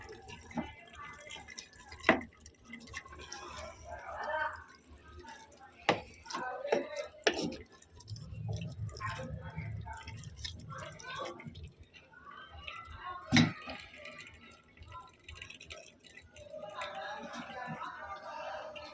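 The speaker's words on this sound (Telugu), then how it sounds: "మామూలుగా లైట్ ఉడుకుతుంది" Chicken gently simmering on a low flame in a clay pot, giving soft, irregular bubbling and dripping sounds under a person talking throughout.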